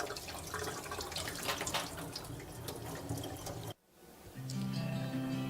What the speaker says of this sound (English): I'm going to give it a rinse with some cold water.